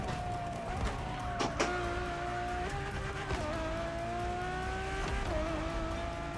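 Ferrari supercar in The Crew Motorfest revs hard, its engine tone rising and falling steadily through gear changes, with brief tire squeal and skidding as the tail slides out; continuous and close, no talking.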